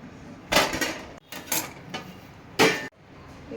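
Cloth-wrapped lid set onto a chicken dum biryani pot, giving a few sharp clattering knocks of metal with short pauses between, close and fairly loud.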